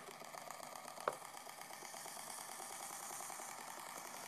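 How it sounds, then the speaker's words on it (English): A small, simple brushed electric motor, powered from a 2.7 volt 10 farad supercapacitor, runs continuously with a faint, even whirring buzz and one brief click partway through. "Just a real simple little electric motor."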